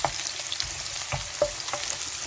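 Vegetables sizzle steadily in oil in a hot pan, a continuous crackling hiss with occasional louder pops and scraping stirs.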